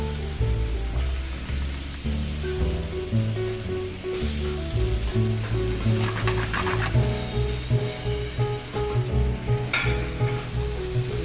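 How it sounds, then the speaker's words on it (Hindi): Apple pieces cooking in a tablespoon of butter in a pan give off a steady, close sizzle and frying hiss, with light stirring scrapes over the top, and no talking. "एप्पल को कुक कर लेंगे। बटर ऐड करेंगे 1 टेबल स्पून।"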